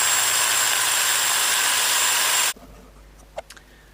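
An old Peugeot electric drill runs loud and steady with a harsh motor whine, then cuts off abruptly, leaving quiet room noise and a couple of small knocks.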